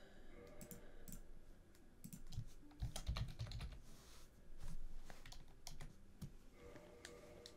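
Rapid, uneven clicking of computer keyboard keys as a character name is typed in, close and fairly quiet, with short bursts and pauses and no talking.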